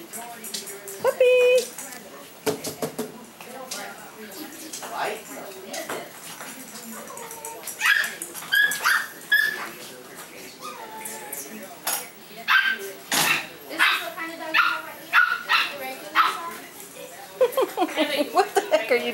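Boston Terrier puppy yips and barks in short, scattered bursts mixed with kitchen clatter of dishes and cutlery, while people talk and call out over it indoors.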